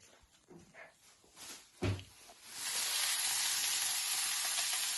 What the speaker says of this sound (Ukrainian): Смажимо грибочки в шампіньони